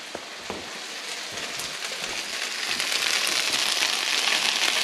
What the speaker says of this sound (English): We'll add our onion now.